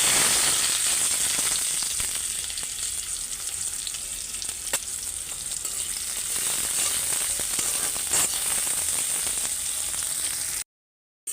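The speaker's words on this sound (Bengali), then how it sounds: "তেল গরম হয়ে গেছে পেঁয়াজটা দিয়ে" Chopped onion sizzling steadily in hot oil in a home kitchen pan, a dense continuous crackle with occasional sharper pops, close and alone, stopping abruptly near the end.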